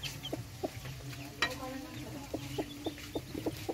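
Native chickens cluck softly nearby in short, evenly spaced calls, with a sharper squawk partway through, over quiet background noise.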